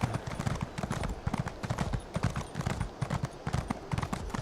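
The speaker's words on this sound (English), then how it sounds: "apparently on PC the horse actually stops running" Rapid, rhythmic hoofbeats of a running horse in a video game, steady and clear, galloping without pause.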